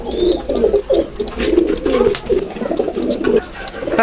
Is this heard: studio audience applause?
no